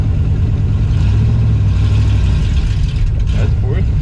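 Engine of a 1968 Mercury Cougar while driving, a loud, steady low rumble heard from inside the car, with speech over it.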